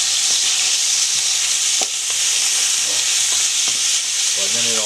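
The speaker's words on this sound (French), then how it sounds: "on va faire frire nos saucisses" Sausages frying in about three tablespoons of oil in a pan, a loud, dense, continuous sizzle close up with occasional small pops and clicks and no talk.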